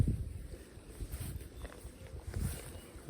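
Wind buffets the microphone in low rumbling gusts, with faint water and outdoor sounds mixed in, while ultralight fishing for perch by the water.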